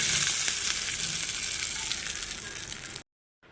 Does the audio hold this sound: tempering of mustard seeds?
yes